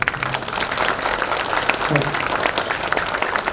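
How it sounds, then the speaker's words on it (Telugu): One person claps hands as a demonstration, giving a dense, steady run of sharp claps close by, with some vocal sound mixed in. "ఆనందపడే వాళ్ళు ఎలా చప్పట్లు కొడతారు అంటే నేను చెప్పాలా, మీకు చూపిస్తాను"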